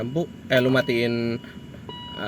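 Repeated electronic chime tones from a BMW E39 520i's key-left-in-ignition warning ring out in short bursts, clear and close, with brief gaps between them.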